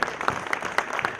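An audience at a Defence Day speech competition in Pakistan House gives a brief burst of applause. The scattered clapping is moderately faint and lasts only about a second.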